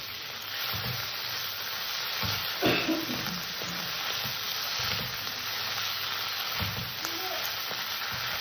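Tomato and spice masala sizzles steadily as it fries in a pan, a continuous hissing crackle with occasional stirring scrapes and clatters, for a Bengali tangra fish curry.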